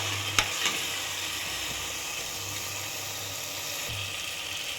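Eggs frying in masala paste for egg biryani, a steady, close hiss of sizzling oil with a couple of sharp utensil clicks early on, no talking.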